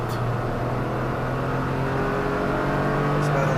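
A Toyota GR Corolla's turbocharged three-cylinder engine pulls hard from inside the cabin, a steady loud droning rise in pitch throughout, with people talking over it.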